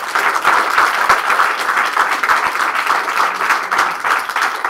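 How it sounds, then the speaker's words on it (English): Steady applause from the audience at a Tournament of Champions debate final, a dense, sustained burst of many hands clapping that fills the room without pause. "Let's have another round of applause."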